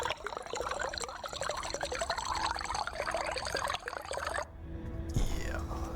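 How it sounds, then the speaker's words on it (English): Water from a bottle filler in Stationeers pours and trickles steadily into bottles, a bubbly liquid flow that stops abruptly, followed by a faint electronic hum and a small click. "What does the bottle filler say? Listen up."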